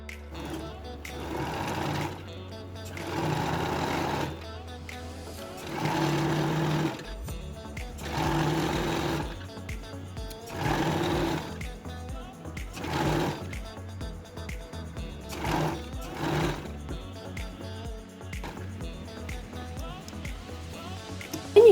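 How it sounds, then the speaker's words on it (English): A sewing machine shirs a cowl neck dress with a tight stitch setting, running in repeated loud, close bursts of mechanical whirring, each lasting a second or two, separated by short pauses. "you're going to continue sewing until you're satisfied with the amount of shirred you have"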